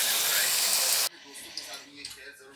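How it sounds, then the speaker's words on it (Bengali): Potatoes frying in a pan give off a loud, bright sizzle that cuts off abruptly after about a second, followed by quieter kitchen sounds and a voice speaking. "আর এখানে একটুখানি আলু ভাজতেছি"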